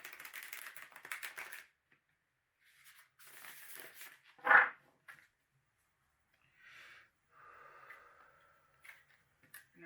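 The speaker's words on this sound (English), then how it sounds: "Just give a moment to ground yourself as I shuffle these cards." A deck of tarot cards is shuffled by hand in short bursts of soft riffling and tapping, with one sharper snap in the middle and quiet pauses between bursts.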